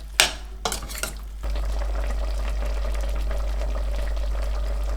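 A few clinks at the start, then a steady bubbling simmer of plums cooking in a pot on the stove over medium heat continues evenly to the end.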